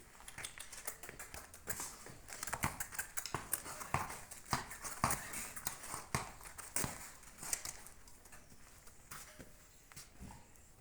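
A clipped horse's hooves clop and shuffle as it is turned around, irregular close taps and knocks on hard ground with no talk over them.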